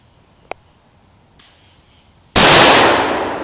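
Rifle shot at a one-pound tannerite target set against a tree outdoors: a faint distant crack and a small tap, then a sudden very loud, close blast that stays roaring as it slowly fades, with no talk.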